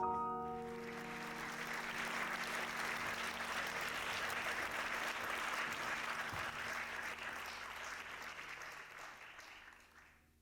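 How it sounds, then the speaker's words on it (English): An audience at a Vermont University workshop breaks into applause to welcome a guest speaker, a sustained round of clapping that swells quickly, holds for several seconds, then tapers away and fades out. "let's give a big round of applause all the way from France"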